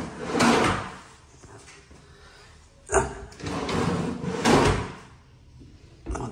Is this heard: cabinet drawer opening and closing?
yes